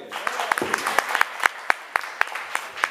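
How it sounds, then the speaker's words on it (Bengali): An audience at a community Bijoy Dibas celebration and annual cultural program applauds steadily, a dense wash of clapping with sharper individual claps popping out near and far throughout. "হাততালি"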